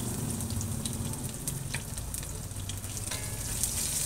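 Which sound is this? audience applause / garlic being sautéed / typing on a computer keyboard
garlic being sautéed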